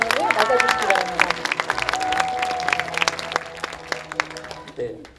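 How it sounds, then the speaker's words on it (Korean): Applause breaks out from the audience at the closing ceremony of the Busan International Short Film Festival, scattered clapping with crowd murmur and voices, thinning out toward the end. "여러분 큰 박수로 양영철 집행위원장님을 맞아주시기 바랍니다"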